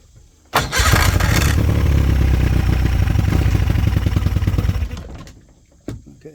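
An outboard boat motor on flushing muffs fires up in gear about half a second in, running loud and steady with a rough mechanical clatter for several seconds before shutting off, followed by a brief knock.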